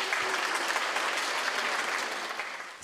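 An audience at an evening event about Kremlin cuisine applauds with dense, sustained clapping that fades slightly toward the end.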